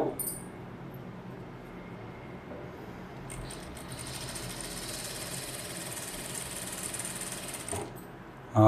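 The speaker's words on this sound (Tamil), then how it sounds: "அப்படியே ஒரு மடித்து ஒரு தையல் போட்டுக்கலாம்" A sewing machine hums steadily at close range while it runs a line of stitches along a folded blouse edge, with its tone rising a little partway through.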